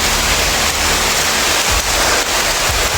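Heavy rain pouring down steadily and loudly close by, a dense unbroken hiss with no voices.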